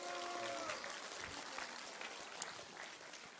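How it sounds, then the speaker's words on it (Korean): An audience at a Korean political speech by lawmaker Park Beom-gye claps in a faint, distant patter of applause that runs briefly and steadily, with some speech underneath. "이럴 땐 박수를 쳐야 되는 거예요"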